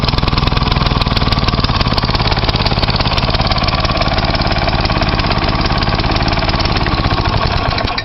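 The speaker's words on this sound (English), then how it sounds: "a quick video about my vapor carburetor. I've got it on a brush trimmer." A brush trimmer's small two-stroke engine, fed by a homemade vapor carburetor, runs loud and close, with a steady rapid buzzing throb that holds constant throughout.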